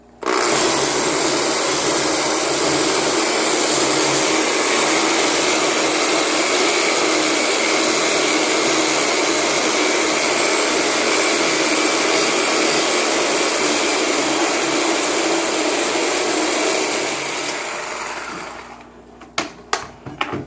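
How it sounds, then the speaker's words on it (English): Reciprocating saw cutting down a PVC pipe, a loud continuous buzzing cut lasting most of the time that drops off near the end, followed by a few sharp knocks. "This reciprocating saw, it's a little dangerous because I'm going down with it"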